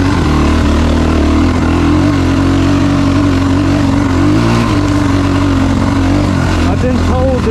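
A 2018 SSR 250S motorcycle with off-brand tires and a carbureted engine runs steadily during a test ride, its loud, continuous engine drone holding a fairly constant pitch with slight revving shifts, and talk over it.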